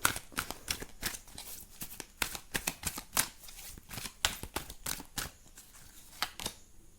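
Tarot cards are handled and shuffled in a quick, steady run of crisp riffling snaps and papery flicks, close up and alone with no talking.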